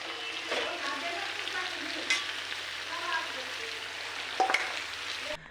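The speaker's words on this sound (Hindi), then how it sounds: "लोहे की कढ़ाई में तेल और ज़ीरा और राई डालकर बैंगन और आलू को भुनने के लिए रख दिया है" Brinjal and potatoes fry in oil with cumin and mustard seeds in an iron kadhai, giving a steady, close sizzle with occasional stirring scrapes and clinks.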